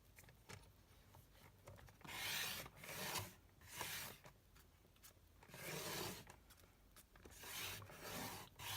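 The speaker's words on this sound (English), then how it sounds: "So I'm going to cut that diagonally in half." A paper trimmer slices cardstock diagonally in half, heard as soft repeated rasping strokes at close range, faint and unaccompanied by speech.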